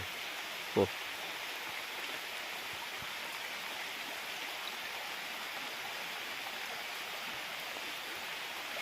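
Steady heavy rain in a forest hisses evenly all around, a dense wash of falling water with one brief knock near the start and no voices.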